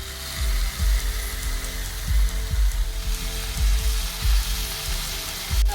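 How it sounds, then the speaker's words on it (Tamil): Onion with ginger garlic paste sautés in a pan, making a constant loud sizzle with low thumping stirs that come at a steady pace. "இஞ்சி பூண்டு நல்லா வதங்கிடுச்சு."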